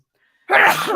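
A single loud, close human sneeze bursting suddenly after a moment of silence.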